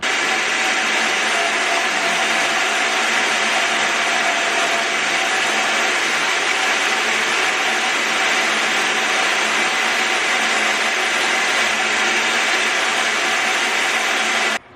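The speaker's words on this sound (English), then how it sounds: "I'm going to crank up the bandsaw. We'll turn the vacuum on." Bandsaw cutting a guitar neck for a custom LP-style guitar, with a shop vacuum running, a loud, steady broadband roar lasting the whole span before cutting off abruptly at the end, no talk.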